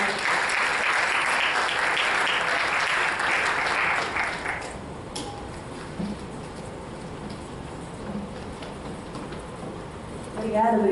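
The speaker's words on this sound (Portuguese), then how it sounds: "Salve de palmas." Audience applause at a panel discussion on digital citizenship, a steady broad wash of clapping for about four seconds that then thins into a quieter, scattered room tone with faint sounds.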